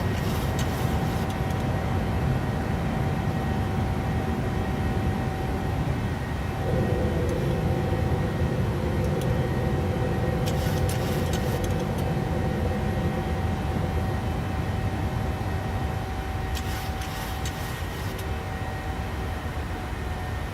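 A Norwegian airliner climbs after takeoff from Oslo in Microsoft Flight Simulator 2020, giving a steady, loud, broadband engine drone with a constant tonal hum. It stays unchanging apart from a few brief hissing swells.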